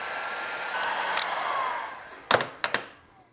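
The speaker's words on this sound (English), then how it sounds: "let's use a heat gun to activate it" A heat gun blows a steady rush of hot air at close range while a Honda Ruckus scooter is being worked on, then fades out as a few sharp clicks and knocks follow.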